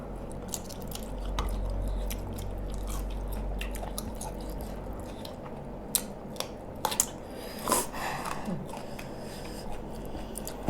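Someone chews a spicy Thai pounded salad of salmon and raw shrimp in fermented fish sauce, with wet, squishy bites close to the mic, a few sharper crunchy clicks rising later over a low background rumble.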